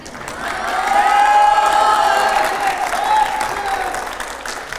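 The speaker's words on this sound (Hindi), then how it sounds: "जरा जोरदार पहले तालियां हो जाए" Loud applause and cheering from a large crowd at a televised Rajasthan political interview event, a continuous roar of clapping that swells and holds steady, with whistles and shouts mixed in.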